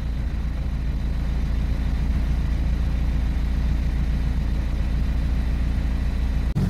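A 2009 BMW 120i convertible idles on its stock exhaust with a deep, steady low rumble, constant and close, ending with a brief click.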